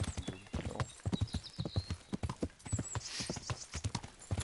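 Horse hooves clip-clopping in the video game Kingdom Come, a brisk, close, regular trot of sharp hoof strikes that runs the whole time with no talk over it.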